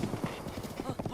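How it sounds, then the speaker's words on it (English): In Zelda: Breath of the Wild, Ganondorf rides the Royal White Stallion, and its hooves clip-clop in a quick, even rhythm, heard faintly. "Ganondorf riding the Royal White Stallion!"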